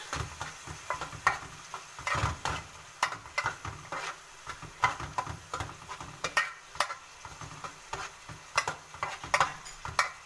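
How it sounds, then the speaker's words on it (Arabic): Liver with garlic, coriander, salt, spices and peppers being stirred in a pan for Alexandrian-style liver, with a steady sizzle of frying broken by irregular scraping and clinking strokes of the utensil against the pan. "خلاص كده قلبت التوابل فيها بالثوم بالكبده تمام"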